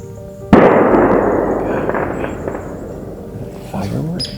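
A single sharp crack, like a gunshot or firecracker, rings out outdoors during a deer hunt in Illinois, followed by a long fading rumble and faint background noise.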